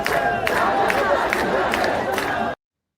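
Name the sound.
protest crowd chanting in Iran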